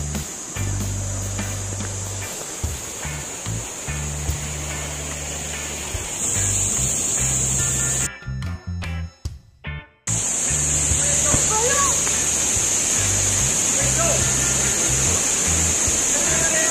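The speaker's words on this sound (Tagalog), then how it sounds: "naririnig na namin yung lagaslas ng tubig" Steady, broad rushing roar of Canding Falls, heard at a distance while approaching on foot, continuous apart from a brief dropout midway, with a faint high hiss over the wash of water.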